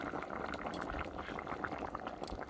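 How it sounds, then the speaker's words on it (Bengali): A vegetable curry with cumin-mustard paste bubbling in a pot, a steady, dense boiling burble with soft pops, close and moderately loud, no talking. "জিরে সর্ষে বাটা দিয়ে একটু ফোটাবো তরকারিটা ফুটিয়ে তরকারিটা নামিয়ে নেব"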